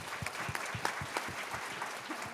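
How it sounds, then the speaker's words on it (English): An audience at a panel discussion on student mental health and social media gives a round of applause. The clapping is soft and distant, with scattered individual claps audible through a quiet room. "so let's give them a round of applause."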